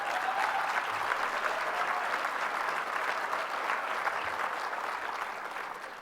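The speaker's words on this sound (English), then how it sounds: "give her a very big round of applause" Sustained, dense audience applause at an MLK diversity awards ceremony, steady and full for about six seconds before easing slightly at the end.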